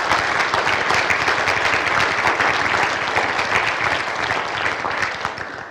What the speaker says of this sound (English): please join me in applauding the next generation of business professionals